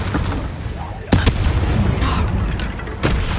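Confringo blasting curse explosions in the Hogwarts Legacy video game: a sharp boom near the middle with crackling tail, another burst toward the end, over dense game noise and battle clamor.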